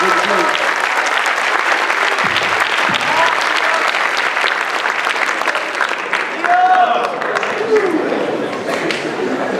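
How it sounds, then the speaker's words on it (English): Lecture audience applauding steadily throughout, a dense, continuous wash of clapping with some crowd noise mixed in. "Give these two guys a big round of applause."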